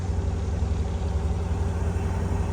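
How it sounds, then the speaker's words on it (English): Trucks back in with engines idling on a cold, rainy night, giving a steady low rumble with constant broadband hiss and no clear voices. "A couple trucks are backing in."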